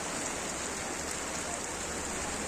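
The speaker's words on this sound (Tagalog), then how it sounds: "Lakas na ulan." Heavy rain pours onto a street in a constant, even wash of hissing noise with no break or talk.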